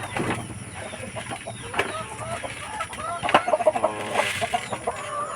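Breeder chickens on a farm cluck around feed mixed with rice bran, a busy flock of overlapping clucks and short squawks up close, with bursts of livelier calls near the end.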